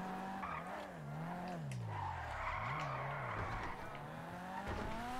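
In a racing video game, car tyres squeal and skid in a long, wavering screech as the car steers hard under acceleration, with engine roar beneath and no speech over it.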